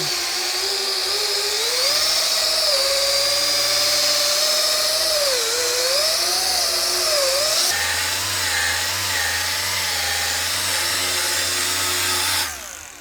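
A polishing machine runs continuously on a custom-painted tank, a loud, close whine that shifts in pitch as the pressure changes, then drops in tone partway through and cuts off near the end.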